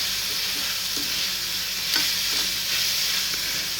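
Snake gourd coated in gram flour is stir-fried in a pan, producing a continuous close sizzle with occasional spatula scrapes and taps against the pan, no voices.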